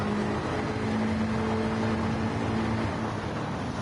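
A car engine in Gran Turismo 7 holds a deep, steady rumble at full revs, a continuous droning tone with no talk over it.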